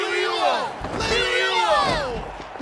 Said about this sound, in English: The exhilarating cheers of the crowd.